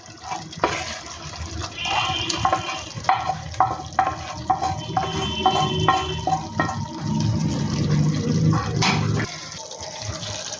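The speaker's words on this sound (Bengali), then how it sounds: "তো এবার আমি এর মধ্যে দিয়ে দেব ভেজে রাখা টমেটো আর কাঁচা লঙ্কা।" Fried tomatoes and green chillies going into a simmering potato curry for white-gravy aloo dum, with a loud close sizzle and bubbling, stirring clatter and a few knocks of the utensil.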